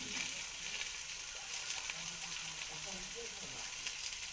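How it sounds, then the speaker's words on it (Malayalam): Sliced onions sauté in a hot pan, a steady soft sizzle close by with occasional stirring scrapes, while a voice speaks faintly over it. "സബോള ഇടുക. നന്നായിട്ട് വഴറ്റി കൊടുക്കണം."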